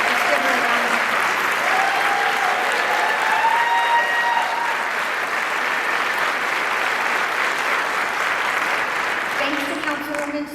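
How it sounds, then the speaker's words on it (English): A large crowd at the 2024 Denver State of the City address claps steadily and loudly for about ten seconds, with scattered whoops and voices mixed into the applause before it starts to fade. "Let's give her a round of applause."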